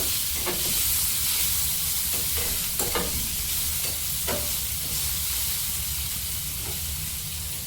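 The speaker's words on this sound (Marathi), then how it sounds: "ही तडक्यात टाकून ही 1-2 मिनिट चांगलं हलक्याला फ्राय करून." Soaked chana dal frying in a hot tempering makes a loud, continuous sizzle with a few light stirring scrapes, and no voices are heard.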